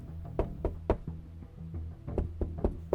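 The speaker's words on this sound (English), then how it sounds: "Someone knocked on the door." Knocking on a door: a quick series of three firm raps, a short pause, then a second burst of four raps, close and distinct with no voices.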